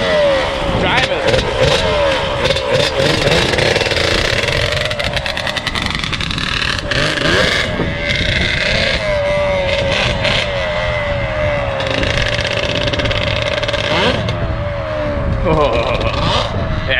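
An abandoned Yamaha Banshee ATV with bad flat tires runs loud and close, its two-stroke engine revving and droning in waves as people shout and talk over it.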